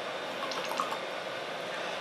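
An MDP-200L dosing unit dispenses liquid, giving a steady, close trickle and faint dripping over a continuous mechanical hiss, with a few brief, brighter splashes partway through.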